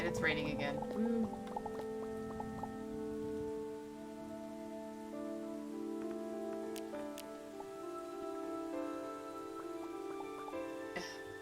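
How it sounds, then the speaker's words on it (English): Rain in a wartime survival video game makes a soft, steady patter beneath sustained tonal game music throughout. "And it's raining again."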